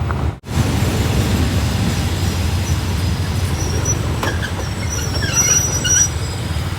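Hitachi 4520 locomotive hauling express train 84 on the Trang–Bang Bamru run at Ban Pong station, a loud steady rumble of engine and rolling wagons with wheel squeal and track noise throughout.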